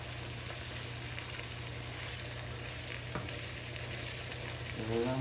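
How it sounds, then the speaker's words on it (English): Empanadas frying in hot oil give a steady, dense sizzle with crackling bubbles, continuous and close throughout, with a brief rise in clatter near the end. "Oh, I hear the sizzle."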